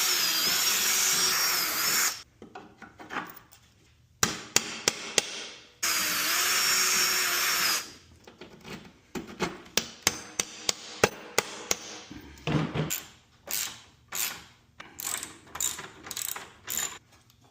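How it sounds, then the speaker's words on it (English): Carriage bolts are tightened while a wooden Adirondack chair is assembled: long whirring bursts from a power driver alternate with rapid ratcheting clicks and sharp knocks, close and loud, no talking. "we'll put the carriage bolts in and tighten this whole thing up"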